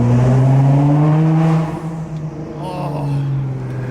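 A widebody Nissan GT-R exhaust drones loudly with a strong low tone, echoing in an underpass, then eases off and settles into a quieter hum.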